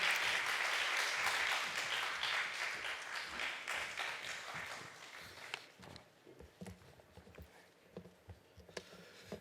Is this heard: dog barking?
no